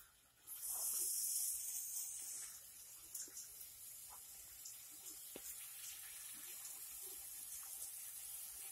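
Five bacon strips sizzle in a pan, a quiet, steady high hiss that holds for several seconds with small crackles and no voices.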